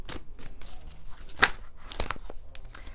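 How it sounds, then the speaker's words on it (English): Tarot cards are shuffled by hand, giving soft papery rustles and scattered sharp clicks and snaps, close and fairly quiet, with a couple of louder crisp hits. "You can hear the cards clicking."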